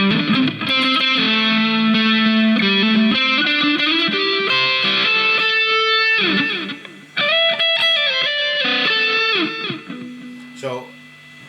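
A distorted electric guitar, a 2019 Chinese-made model, plays sustained chords and riffs with a gritty, saturated tone, steady and loud, briefly cutting out near the end.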